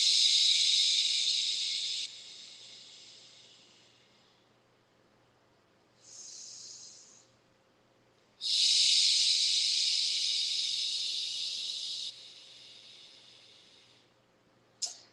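A person does slow, deep yoga breaths through the nose, with long airy inhales and exhales separated by pauses, close and clear in a quiet room.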